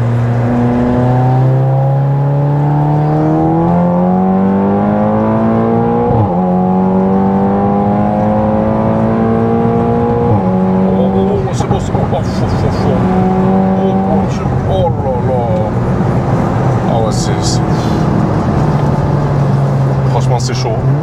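A stage 3 Cupra with a stock-block four-cylinder engine accelerates hard through the gears, loud and close. The engine note climbs steadily with clear drops at each upshift, and people talk faintly in the background.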